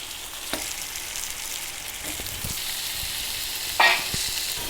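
Chicken pieces added to tomatoes frying in a pan for a chicken curry, a steady, moderate sizzle with a couple of soft stirring clicks and one brief louder hiss near the end, no speech.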